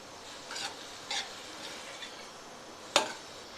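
Spinach poriyal with grated coconut is stirred in a pan with a few faint, scattered scraping strokes over a low background hiss, ending in one sharper scrape.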